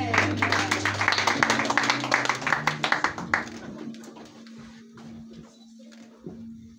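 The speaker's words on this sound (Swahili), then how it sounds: "Makofi mazuri." A church congregation claps in applause at the close of an ordination service, loud and dense for about three seconds before thinning out, with a steady tone and murmuring voices underneath.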